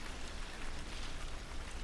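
Spring rain falls steadily outside, a soft even hiss of drops that stays faint and unbroken throughout.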